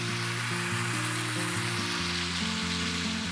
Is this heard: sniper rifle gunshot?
no